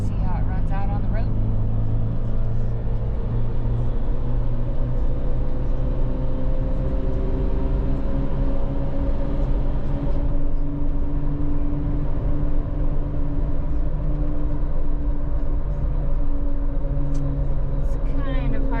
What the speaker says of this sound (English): we're taking the JK out for some highway driving on the pavement